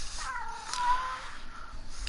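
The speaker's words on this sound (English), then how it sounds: "Oh, I wish my cat would be quiet." A house cat gives a short, fairly close meow, with a fainter cry following amid light background noise.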